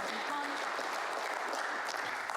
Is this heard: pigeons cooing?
no